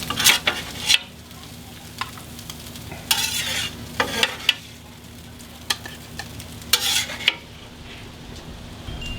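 A metal spatula scrapes and scoops cooked chorizo off a flat top griddle in several short, harsh bursts over a soft sizzle, close and fairly loud, with no talking.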